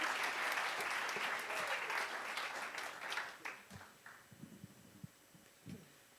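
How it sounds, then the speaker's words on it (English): Audience applause at a storytelling event welcoming Patricia Rosenberg, dense clapping that thins out after a few seconds into scattered individual claps with a low murmur of voices. "please give a lot of applause to Patricia Rosenberg"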